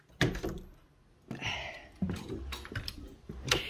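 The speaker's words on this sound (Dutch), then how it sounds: "Zo, even deurtje dicht." A small door swings shut outdoors in a garden, making a few separate bumps and knocks spread over a few seconds with quiet handling noise between them.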